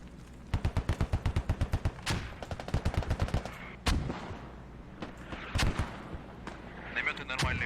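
Crisp bursts of rapid gunfire in a competitive squad video game match, first a fast string of a dozen-odd shots, then a second burst and several single heavy cracks spread out, with a commentator talking underneath.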